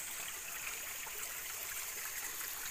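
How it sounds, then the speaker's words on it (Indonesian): A small river stream flows through a village area in the early morning, giving a steady, even wash of rushing water with no voices. "Ini sungai kecilnya, ini masih pagi jadi belum terlalu terang ya."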